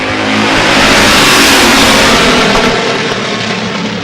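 A field of six Sportsman Division race cars roars off at the green flag on an oval track, a loud, dense wall of engine noise holding steady throughout without speech.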